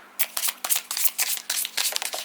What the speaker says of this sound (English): I'll just do one shuffle because otherwise I have too many cards